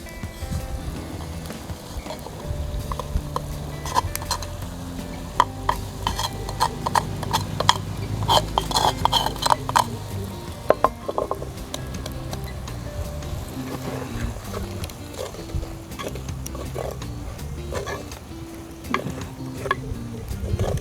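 Boiled pumpkin and grated coconut are stirred in a pan: irregular scraping and tapping strokes of a spoon, close and fairly quiet, scattered over a soft background.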